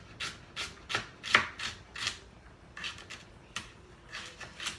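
Knife slicing pieces of food for chicken and dumplings on a cutting board, a series of about ten crisp, evenly spaced cuts, close and moderately quiet, with no talking.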